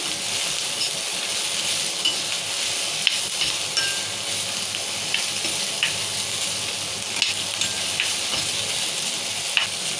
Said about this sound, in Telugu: ఇవన్నీ వేయించుకోవాలి